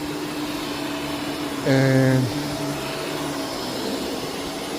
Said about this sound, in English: I'm going to vacuum both sides, steam it